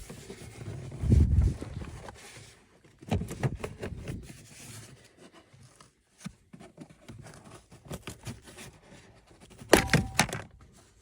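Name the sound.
pulling off a Toyota truck's driver's side kick plate trim piece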